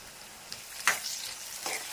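Dried small fish and curry leaves fry in hot oil in a pan, giving a steady crackling sizzle with a few soft stirring scrapes and no talking.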